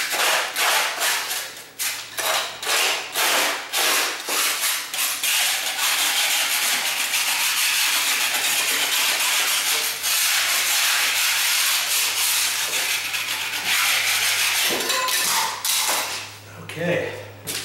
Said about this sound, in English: I've got a little loose piece right there, so I'm just going to take that out